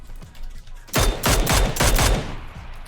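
Rapid gunfire crackles in PUBG, several sharp shots in a quick burst after a quieter start, with a loud, close sound.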